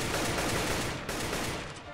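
Dense, continuous gunfire from a Counter-Strike: Global Offensive match, a steady loud burst of shots filling the full two seconds with no gaps and no speech.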